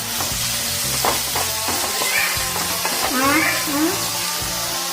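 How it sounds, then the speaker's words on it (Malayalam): Chopped shallots sizzle steadily in hot oil in a pan while they are sautéed for chicken kondattam, with a close, continuous crackle and occasional stirring scrapes. A voice speaks briefly underneath. "ചെറിയ ഉള്ളി അരിഞ്ഞത് ചേർത്തെടുക്കാണ്. നന്നായിട്ടൊന്ന് ഇറക്കി കൊടുക്കാം."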